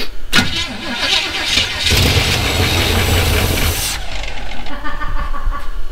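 A Chevrolet C10 truck engine cranks over loudly up close, a rough churning burst that strains for a few seconds before dropping to a lower, uneven rumble.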